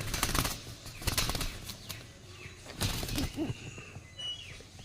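A female Punjabi pigeon flaps and struggles to get out, giving a few quick bursts of wingbeats and scuffling, close and fairly faint, with quieter rustling between.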